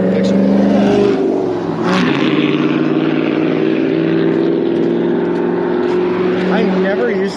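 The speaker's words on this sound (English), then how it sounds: "I never used to get mad at loud cars like that." A loud car passes on a street in Ontario, California, its engine roaring and revving continuously up close, a heavy sustained rumble filling the whole stretch.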